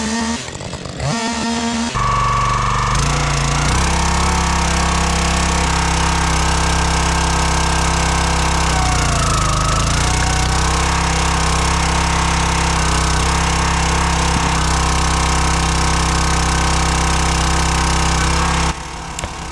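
Countyline log splitter working on logs, a loud continuous engine drone with a heavy low hum, briefly changing pitch as the ram strains partway through, running steadily close by.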